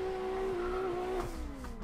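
A drifting car squeals its tires in a steady, sustained howl whose pitch slides slightly as it holds the slide, over a low engine rumble, close and alone.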